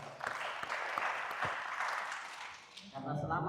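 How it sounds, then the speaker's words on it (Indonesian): Crowd applause at a religious formation gathering in Makassar, a dense wash of many hands clapping for about three seconds before fading as a voice resumes. "Tepuk tangan dulu ya."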